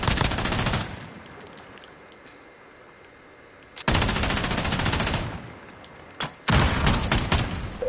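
Rapid automatic gunfire in the Modern Warfare game on the Rust map, loud sustained bursts at the start, a long lull, then heavy fire resuming with a few separate shots near the end.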